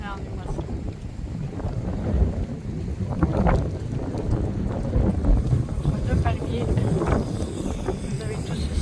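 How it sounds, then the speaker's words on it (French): Strong wind buffets the microphone outdoors at sunrise in Torremolinos, Spain, as a steady, loud low rumble with gusting surges that persists throughout the scene. "Quand vous allez entendre le vent, parce qu'il y a beaucoup de vent."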